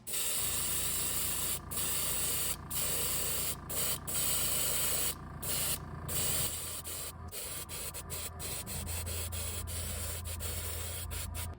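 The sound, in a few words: spraying pearl lime green paint onto a carved grasshopper lure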